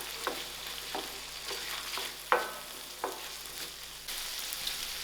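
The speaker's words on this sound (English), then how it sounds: "So first I'm going to add in my onions. And allow this to fry." Onions frying in a pan of seafood juices for paella: a soft continuous sizzle with several sharp stirring scrapes and knocks at irregular intervals, close, with no talking.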